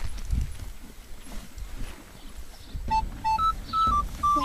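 Several horses on a solo trail ride walk along with steady, fairly close hoof clip-clops, joined in the second half by a string of short bright chirping tones.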